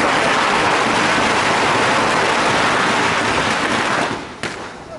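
A dense, continuous crackle of firecrackers exploding rapidly and loudly at a BJP election victory celebration in Fatorda, Goa, fading out toward the end with one last sharp pop.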